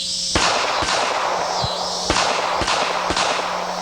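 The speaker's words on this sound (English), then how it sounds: "Not much recoil, really just your basic old 45 from that great Kimber" A Kimber 1911 pistol chambered in .45 auto fires about six sharp, loud shots at an uneven pace outdoors, each crack leaving a brief ringing tail.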